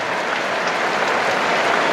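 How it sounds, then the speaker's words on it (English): A cricket crowd at an England v South Africa Test match warmly applauds debutant Harry Brook, a loud, dense, sustained roar of clapping that swells slightly. "here's really warm applause for the man on debut"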